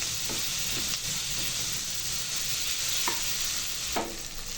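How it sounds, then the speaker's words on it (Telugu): Curry leaves, ginger garlic paste and onions fry in a pan for a Telugu bendakaya (okra) fry, a steady close sizzle with a few scraping stirs of a spoon and no talking. "కొద్దిగా కరివేపాకు, అల్లం వెల్లుల్లి పేస్ట్, ఆనియన్స్ వేసి బాగా కలుపుకోవాలండి. వీటిని కొంచెం ఫ్రై అవ్వనివ్వాలండి."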